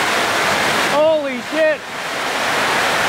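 Heavy rain pouring down on the roof of a Phuket night market, a dense steady hiss of falling water as a person exclaims loudly over it.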